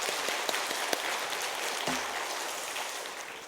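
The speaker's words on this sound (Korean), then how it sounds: "감사의 박수 전하겠습니다" Congregation applauding during a Korean church devotional worship service, a broad crackling wash of many hands clapping steadily and fairly loudly, with a brief low thud partway through and no speech.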